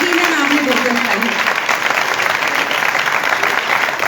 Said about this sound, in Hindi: मेरे यीशु के जलाल के लिए जोरदार तालियां